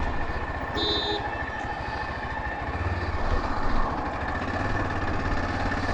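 A Nagpur metro train rumbles steadily with rhythmic wheel clatter and a faint high electric whine, heard from inside at a constant loud level.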